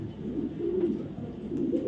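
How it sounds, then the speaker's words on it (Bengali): A racing pigeon coos softly nearby: low, throaty, rolling calls repeated in a gentle rhythm, with no one talking. "কবুতরটা রেস করা আছে"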